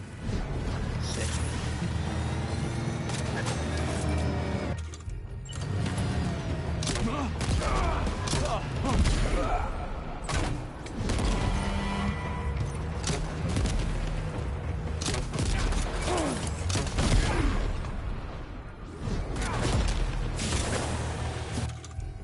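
Rapid bursts of gunfire and booming blasts in the video game Death Stranding 2, dense and loud, with repeated sharp shots, a few brief lulls and a talking voice mixed in.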